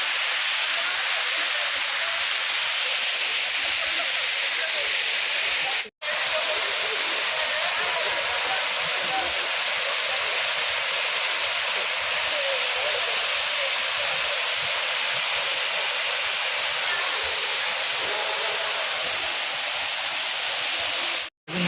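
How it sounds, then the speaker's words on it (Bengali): A large jungle waterfall at Templer's Park in Selangor, Malaysia, roars as a dense, continuous rush of falling water, loud and close, with no break in the steady wash of sound. "গাইস ঝর্ণাটা অনেক বড়, অনেক উপরে।"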